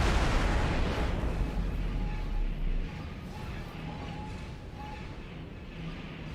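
Star Wars Venator warship firing its big guns in an X4 space battle mod, a loud continuous wash of heavy booming fire that eases slightly midway, with faint tonal blips under it and no clear talk.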